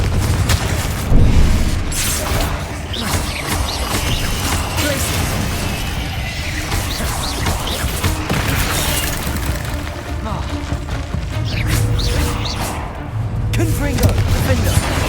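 Confringo fire-blast spells cast during a dragon rescue battle in Hogwarts Legacy on Xbox Series S: dense, continuous rumbling booms and crackling impacts, loud throughout, with no clear gaps.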